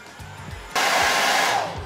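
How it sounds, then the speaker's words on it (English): Heat gun on a low setting blowing warm air to soften a boot liner: a few soft knocks, then a sudden steady rushing whoosh that starts partway in and holds, easing slightly toward the end. "Now you can do this on a low setting with a heat gun"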